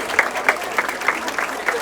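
Mourners applaud as a young girl's body leaves her school in the Maiobão neighbourhood. Scattered, rhythmic claps stand out against a crowd murmur, moderately loud and slightly distant.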